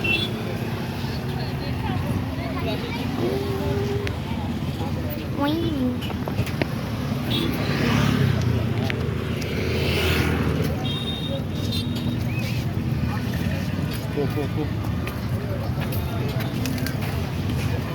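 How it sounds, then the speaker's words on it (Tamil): Heavy city street traffic near a beach, a dense steady roar of engines and passing vehicles with horns, while people talk nearby over the noise. "சரியான டிராஃபிக் பின்னாடி பார்த்தீங்களா"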